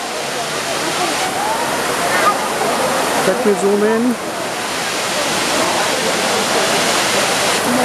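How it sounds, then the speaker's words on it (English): Teerathgarh waterfall in Bastar rushes with a constant, close roar of falling water while someone speaks briefly over it. "That's the Teerathgarh waterfall in Bastar."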